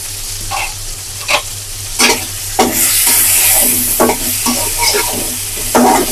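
Cumin and onions fry in hot oil in a wok, a loud, close sizzle broken by repeated scraping stirs of a spatula, with no one talking.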